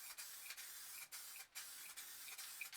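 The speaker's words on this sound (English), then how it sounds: "So just give it a bit of a light coat, the clear coat." A spray can lays a light clear coat over a spray paint art planet, giving a soft, steady hiss broken by several brief pauses between passes, close and fairly quiet.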